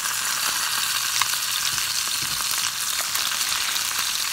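Green chillies and onion go into oil where koi fish is frying, giving a loud, continuous sizzle with scattered crackles and pops throughout.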